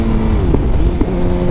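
A 2024 Suzuki GSX-R750 motorcycle on a wet road, its throttle pulled as the rear wheel spins, a steady loud engine drone with small surges in pitch, close and continuous.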